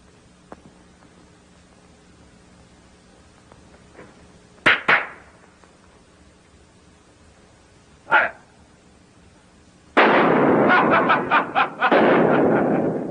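Gunshots in a radio drama: two sharp, loud reports a few seconds apart, a third after a pause, then a sustained burst of rapid firing and clatter, with no voices over them.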